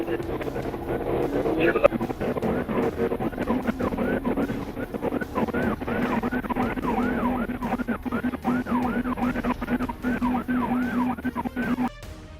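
A police car's wailing siren during a pursuit, cycling steadily up and down over engine and road rumble, with a voice talking over it, then cutting off near the end.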